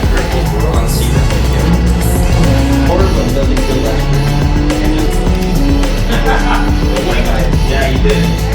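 A race car lapping Sebring in a racing simulator game on a custom sim rig, with a loud, continuous engine drone, shifting tones and occasional tire squeal, and voices talking over it.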